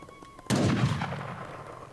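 One sharp, loud gunshot from the video game Age of Empires 3 cracks suddenly after a moment of near quiet, then fades into a reverberant rumbling tail.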